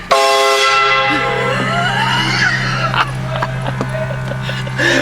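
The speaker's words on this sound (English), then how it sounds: "I'm gonna honk his horn again" A loud, sustained horn blares with a rich harmonic tone, holding steadily for several seconds, with a few shouts and street noise mixed in underneath.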